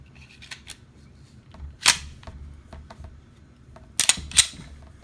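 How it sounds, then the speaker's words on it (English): A Glock pistol with maritime spring cups and an upgraded firing pin spring dry fires during a function test, giving a few sharp, close mechanical clicks spread across a quiet stretch, the loudest near the middle and two more toward the end. "you hear it click, you're a dry fire"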